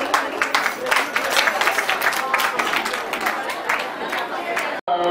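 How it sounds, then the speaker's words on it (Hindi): Audience applause for children after their dance-drama performance at a Jain temple event, dense steady clapping from a crowd lasting several seconds before cutting off abruptly near the end. "जोरदार तालियों से बच्चों का प्रोत्साहन करें"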